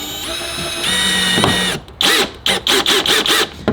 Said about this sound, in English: Let's get our drill bit here. And we are good to drill.